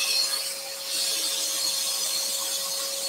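A scroll saw cuts through a wooden compound-cut candle blank, giving a steady, close hiss of blade on wood against a constant motor whine, with no voices.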